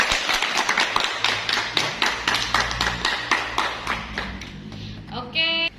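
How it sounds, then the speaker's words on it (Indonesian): Steady rhythmic applause from a classroom group, many hands clapping together in a regular beat for several seconds before fading, ending with a brief electronic tone. "beri tepuk tangan buat Mbak"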